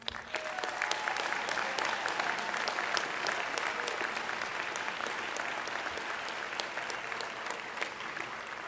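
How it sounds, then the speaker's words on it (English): Sustained applause from a community college commencement audience, a full, even wash of many clapping hands that runs for several seconds without letting up. "I think you deserve a huge round of applause."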